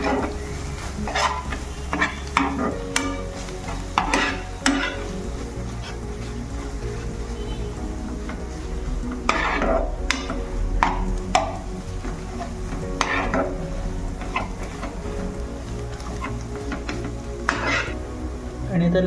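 Coriander being stirred into eggplant bharit in a pan, repeated scraping and clanking of a spoon against the pan in irregular bursts over a low sizzle, close by; no talking.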